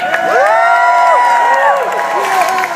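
A college crowd at a Fear Factor event at FSU cheers loudly for the red team, with whoops and shouts in a steady roar and rising and falling yells throughout.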